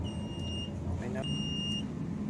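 An MF/HF radio modem aboard a ship sounds its alarm during a modem loop self-test: two steady high-pitched electronic beeps, each about half a second, separated by a brief gap over low background hum.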